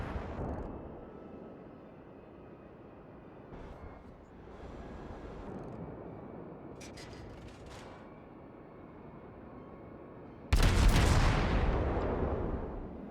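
Naval guns of the cruiser Aoba firing in World of Warships, with rumbling ambient game sound throughout and a sudden loud booming salvo late on that decays over a couple of seconds.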